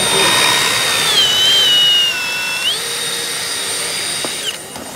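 A power drill fitted with an auger bit whines loudly at close range, its pitch dipping under load and rising again before spinning down at the end.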